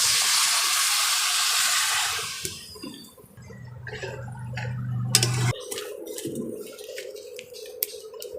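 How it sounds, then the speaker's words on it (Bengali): Water poured into a pan of spices frying with turmeric for a prawn and fig curry, a loud steamy hiss that drops into a bubbling sizzle with crackles. "এবার জল দিয়ে দেব।"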